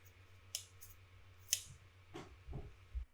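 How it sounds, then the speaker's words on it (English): Metal scissors opening and closing at home, a few faint, sparse snips and clicks spread apart in a quiet room with low background hum. "lets me open and close my scissors"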